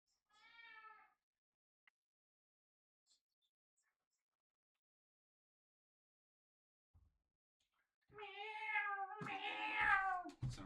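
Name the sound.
cat meowing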